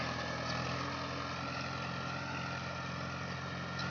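A Ford tractor pulls a harrow across a dry rice paddy, its engine giving a steady, loud drone that holds without a break throughout.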